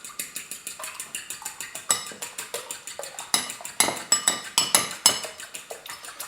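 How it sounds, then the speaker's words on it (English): Rapid, steady metallic clicking and ticking from a wok and its oil heating up over a burner while fried rice is made, dozens of sharp clinks in an uneven rhythm, close and clear with no talking. "You should also be able to hear the wok oil and the wok going click, click, click in the background as the heat transfers into it"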